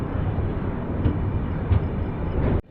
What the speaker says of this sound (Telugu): మనం టువర్డ్స్ మ్యాంగ్లూర్ సెంట్రల్ రైల్వే స్టేషన్కి వెళ్తున్నాము